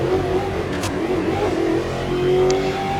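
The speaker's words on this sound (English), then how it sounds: "Let's change gear again." A stock car's engine in the Automobilista 2 racing game, on the Mount Panorama circuit, revs steadily and loud after a gear change. Its droning mid-pitched harmonics shift slightly in pitch across three seconds with no talk.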